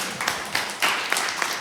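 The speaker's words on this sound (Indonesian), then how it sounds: "tepuk tangan saudara sekalian." A handful of rhythmic claps from a church congregation, faint and spaced at regular intervals over under two seconds.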